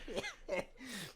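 A man coughs in three rough bursts, close and loud, each cut off by a short pause.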